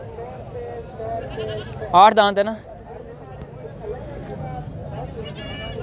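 Goats at a livestock market (bakra mandi) in Taxila: one loud, wavering bleat rises close by in the middle while someone talks throughout amid market chatter.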